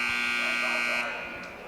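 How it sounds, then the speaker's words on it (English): A loud, steady electronic buzzer sounds for about a second to end a period in a varsity high school wrestling bout, then cuts off, with faint crowd and announcer talk beneath. "And buzzer will put that play to rest."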